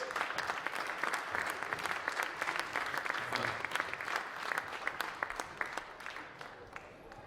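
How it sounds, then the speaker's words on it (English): An audience at a Bitcoin conference applauds as panelists come to the stage, with dense, close clapping that holds steady, then thins toward the end. "please give them a warm round of applause"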